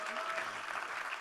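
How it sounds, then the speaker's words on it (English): An audience claps during a Bollywood golden jubilee celebration for Hema Malini, a short burst of steady, fairly distant and soft applause. "I would request a round applause for Hema ji for completing 50 years in Bollywood this year."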